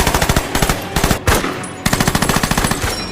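Rapid bursts of automatic gunfire, loud and close, in quick rhythmic volleys separated by short pauses.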